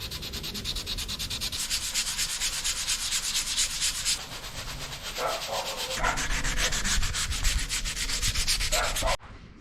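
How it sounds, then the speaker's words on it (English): Sandpaper scrubs rhythmically over painted wood on a camper van fridge storage box, a continuous close rasping with fast back-and-forth strokes that ends abruptly. "So gonna get it sanded down really nice"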